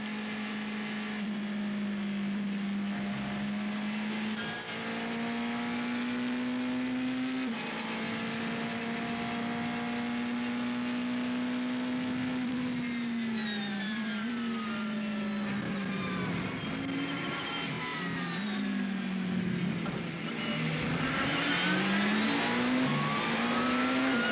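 A race car engine at the 2014 24 Hours of Le Mans drones and revs steadily from on board, pitch rising and falling through gear changes, loud and continuous with faint team radio voices underneath.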